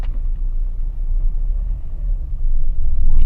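A taxi car drives along a road, its steady low engine and tyre rumble filling the cabin and swelling slightly louder near the end, with no talking.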